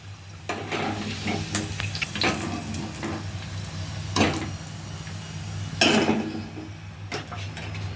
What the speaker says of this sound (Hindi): अब इसे हम डाल देंगे अपनी चाशनी में